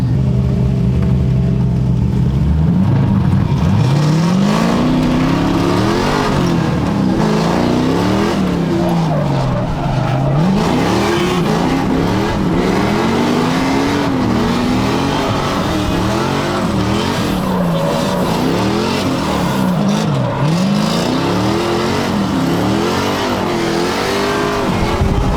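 A Mazda Miata fitted with an LS3 V8, on its grippiest tires at low pressure during a racing event, roars loudly and continuously, its engine note climbing and dropping through repeated acceleration and gear changes with tire squeal underneath.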